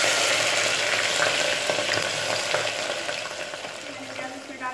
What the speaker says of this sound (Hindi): अब मैं इसे प्याज को इसमें ऐड करूंगी तेल में।